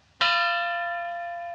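A single loud stroke of the church tower bell of São Denis marks one o'clock, struck sharply and then ringing on with a long, slowly fading metallic hum.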